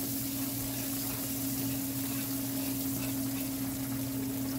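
Onions and shallots cook in oil in a pan, a faint steady sizzle with a constant low hum behind it and no talking.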